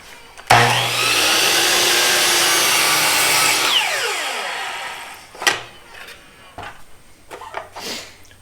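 A miter saw swung to 11 degrees cuts an angle beyond its normal capacity with a simple jig, spinning up into a loud, steady whine through the wood before winding down, followed by a few scattered knocks and handling sounds.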